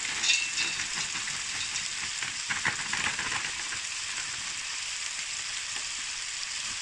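Ground meat browning in a pot for spicy chili, giving a steady, close sizzling and frying hiss that holds evenly throughout with a few faint stirring scrapes and no talking.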